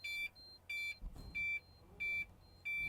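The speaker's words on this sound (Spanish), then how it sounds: "Él va a generar un pitico que va a generar una alarma." A power generator's control panel sounds its alarm after the emergency stop is pressed: a loud, high electronic beep repeating at an even pace, five short pulses separated by gaps, with a faint rustle between them.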